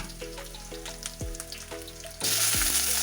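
Tomatoes tipped into a hot frying pan: quiet bubbling with soft clinks gives way to a sudden, loud, steady sizzle as they hit the oil.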